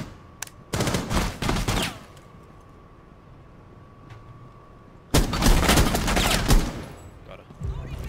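Bursts of automatic gunfire in Rainbow Six Siege, two loud clusters of rapid shots separated by a quieter stretch with a steady tone, then a brief final burst.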